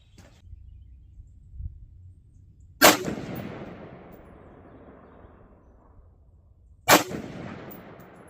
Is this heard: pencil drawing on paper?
no